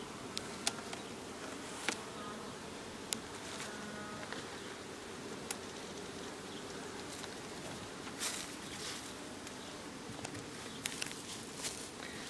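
Honey bees from a strong hive that is out robbing hum in a steady, faint, continuous drone outdoors, with scattered small knocks and taps and no talking.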